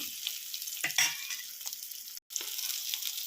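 Eggs for an egg curry fry in a pan, giving a steady close sizzle with a few stirring scrapes and clinks, and a brief break partway through.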